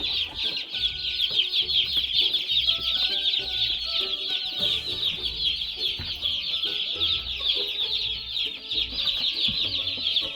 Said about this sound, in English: And we got 100 meat chicks.